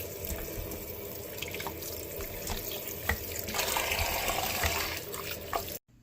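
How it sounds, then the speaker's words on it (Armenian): Beef rinsed under a running kitchen tap, a steady broadband rush of water into a sink that swells louder near the middle, then cuts off abruptly just before the end; no voices. "Մի քանի ջուր, սենց հոսով ջրի տակ կլմանանք։"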